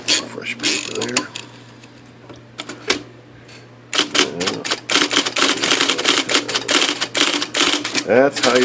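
IBM Selectric 2 electric typewriter typing in bursts of rapid mechanical keystrikes, with a steady motor hum beneath, a quieter pause midway, then a dense run of clattering strikes and carriage movement.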